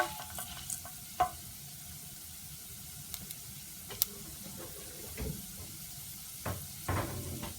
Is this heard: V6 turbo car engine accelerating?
no